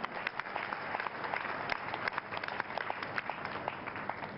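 A church congregation applauds during a Sunday service, a steady dense patter of many hands clapping at moderate distance throughout.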